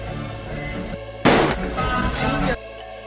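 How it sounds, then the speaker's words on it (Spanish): A single sharp gunshot cracks out against a steady background hum, followed by a brief noisy stretch before it quiets again. "Este es justo el momento en el que él recibe el disparo."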